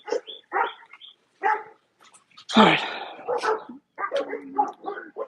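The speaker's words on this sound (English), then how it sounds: "Dogs are going crazy." Dogs barking outdoors in a series of loud, close, sharp barks and yips, with short gaps between bursts and a brief spoken remark.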